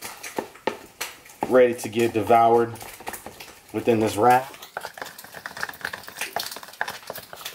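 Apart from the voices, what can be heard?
turkey bacon sizzling in a pan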